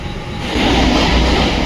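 A Mumbai local train running at speed, with a loud, close rumble of wheels and carriage noise that swells after the first half-second and holds steady throughout.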